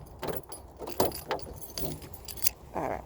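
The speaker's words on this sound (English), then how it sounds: "Alright, now let's put the keys away." Keys jangle in a series of short metallic rattles and clinks near the microphone, with distant street ambience and a vehicle faintly in the background.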